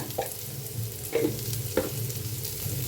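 Chopped onion fries in a pan for Mysore dosa, cooked to a medium roast, with a soft continuous sizzle broken by three distinct scraping stirs at roughly even intervals, close and fairly quiet.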